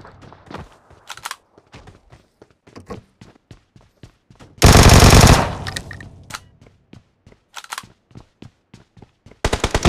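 Gunfire from a big gun in PUBG Mobile: scattered single shots and short bursts crack sharply, then a long sustained automatic burst roars loud and close before more spaced shots and a final burst.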